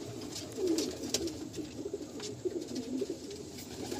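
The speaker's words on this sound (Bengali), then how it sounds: "এই হলো পা, একদম ছোট্ট হাড্ডির পায়রা।" Young pigeons coo softly and repeatedly at close range, with low murmuring calls over faint background noise and no talking.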